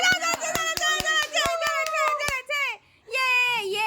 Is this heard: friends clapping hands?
yes